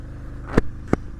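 A 2011 Ducati Monster 796 motorcycle idles with a low, throbbing engine rumble, punctuated by two short sharp bursts close by.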